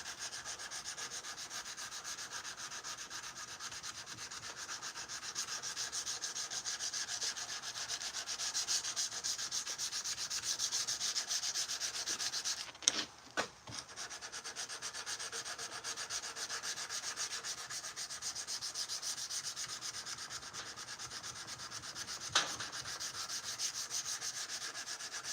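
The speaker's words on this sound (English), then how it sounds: "Use what's left of the sandpaper's grit to hit the edge real quick" Steady, close rasping strokes of sandpaper worked by hand over a forged blade, continuous and even with a couple of brief pauses, no talking.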